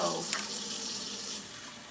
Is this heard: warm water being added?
yes